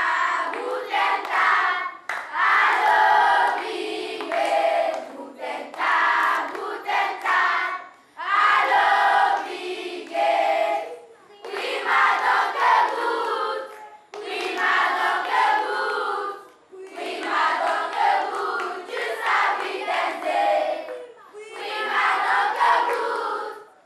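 Children shout a bright cheer of welcome in several loud bursts, each burst followed by a short gap. The cheers come one after another with a steady rhythm, and hand claps may be mixed into the shouting.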